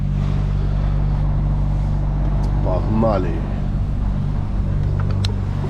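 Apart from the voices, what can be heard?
truck engine while reversing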